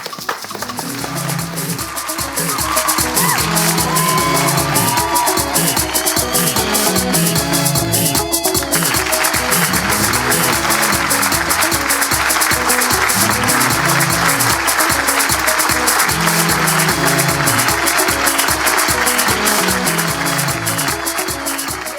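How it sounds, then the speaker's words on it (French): Applause from a studio audience welcoming a guest on a live variety show, starting strongly around two and a half seconds in and swelling further while a steady rhythmic music beat plays underneath throughout. "on applaudit pour accueillir notre invitée"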